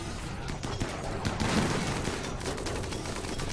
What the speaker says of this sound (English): Someone is still shooting. Oh, that's our turret.